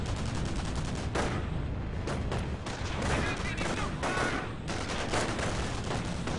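Rapid bursts of machine gun fire mixed with other gunfire in a World War II strategy video game, dense and continuous crackling under a commentator's voice.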